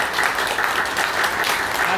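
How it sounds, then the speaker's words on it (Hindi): Strong, continuous applause from a convention audience at a health-insurance sales session, welcoming a new product; dense, even clapping fills the room throughout with only faint crowd murmur beneath. "हम लोग एक बार जोरदार तालियां बजाएंगे।"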